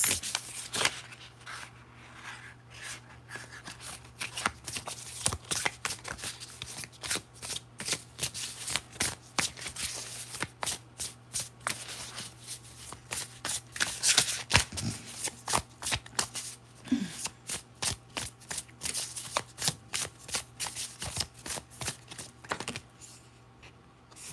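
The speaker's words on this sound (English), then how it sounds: "I just want to keep shuffling them." A deck of tarot cards is shuffled repeatedly by hand, rapid crisp riffling and flicking bursts in an uneven rhythm over about twenty seconds, close and fairly soft with a faint hum behind it.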